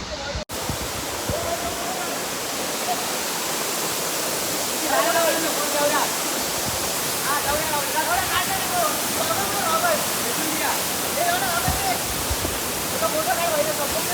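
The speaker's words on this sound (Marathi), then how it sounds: "शेवटी पोचलेला आम्ही टेपरी वॉटरफॉल या बघा फुल मजा आहे" Tapri waterfall near Bhivpuri roars as a loud, constant rush of falling water throughout, with voices faintly talking under it.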